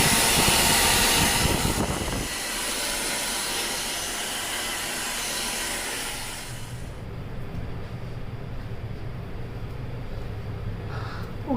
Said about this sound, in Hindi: तो अभी मैं इसको स्किप करके और ड्रायर यूज़ करती हूँ।